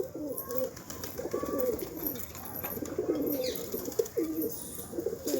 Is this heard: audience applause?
no